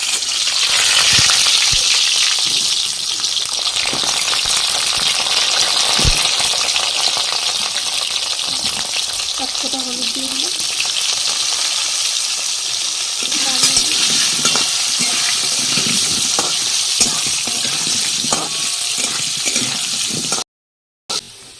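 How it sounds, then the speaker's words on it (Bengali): Whole small potatoes fry in hot oil for a chicken curry, giving a steady, close sizzle with bursts of stirring and scraping throughout, ending abruptly. "তেল গরম হয়ে গেছে আলু দিয়ে দিচ্ছি কিন্তু আজকে ছোটো ছোটো আলু বলে গোটা গোটা আলুই দিয়ে দিলাম"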